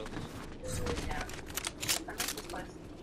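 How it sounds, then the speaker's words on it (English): Fortnite gunfire: rapid, sharp bursts of shots crackling in quick succession at moderate distance, with a voice in the background. "They're shooting over here."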